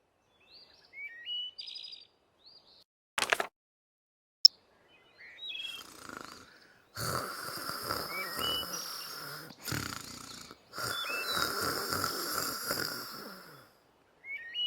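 Loud, raspy snoring comes in long bursts, a narrator imitating the sleeping wolf in a reading of Little Red Riding Hood, set against chirping birdsong in a forest setting, with quiet pauses between the snores.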